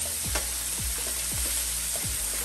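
Bacon fries in a pan, rendering its fat for seafood fried rice, with a steady close sizzle. Several soft scraping stirs recur at a regular pace over the sizzle.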